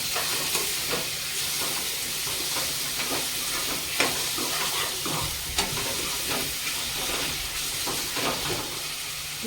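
Cleaned prawns fry in hot oil over onion masala with a loud, steady sizzle and hiss, broken by scraping stirring clicks, close by and with no talking.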